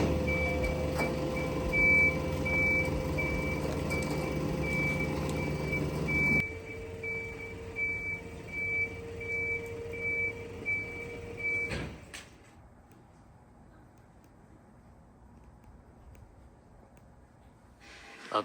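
A tow truck's reversing alarm beeps in a steady, evenly spaced pattern over engine rumble, then cuts out as the truck stops, followed by a door or hatch clunk and quieter background.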